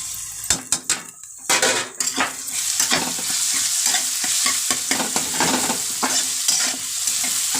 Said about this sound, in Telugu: చూడండి, మా అమ్మ ఇంకా ఉల్లిపాయలు వేస్తుంది.